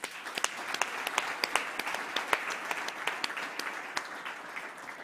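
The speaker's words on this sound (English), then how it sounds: "Shall we please give Telkom a round of applause?" A conference audience applauds, a fairly soft but continuous patter of many hands with some sharper individual claps standing out, heard at a distance in a large room.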